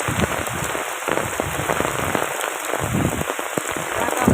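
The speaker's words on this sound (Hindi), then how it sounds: "बहुत खतरनाक बारिश हो रहा है, आवाज भी आ रहा है।" Heavy storm rain pours steadily and loudly onto surfaces in Rampur village, East Champaran, a dense, continuous hiss of drops with no talking.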